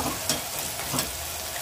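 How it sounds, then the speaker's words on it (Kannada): Green chilies fry in hot oil in a pan for a methi rice pulav, a close, steady sizzle broken by a couple of sharp scraping stirs. "ಸ್ವಲ್ಪ ಎಣ್ಣೆ ಬಿಟ್ಕೊಳ್ಳೋವರೆಗೂ ಫ್ರೈ ಮಾಡ್ಕೋಬೇಕು"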